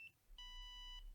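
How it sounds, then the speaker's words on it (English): A quick beep, then a longer harsher buzzing tone from a laser hair removal device signalling missed skin contact, lasting about half a second before cutting off. "Now, if I miss contact, which sometimes happens, it'll sound like this,"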